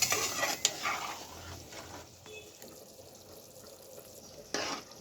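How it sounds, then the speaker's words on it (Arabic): Rice added to seasoned contents of a pot being stirred together for Egyptian koshari, a steady hiss of frying with soft scraping and a couple of sharp utensil clinks against the pot, close by with no talk. "هزود بقى الايه الرز. نديهم تقليبه كده مع بعض."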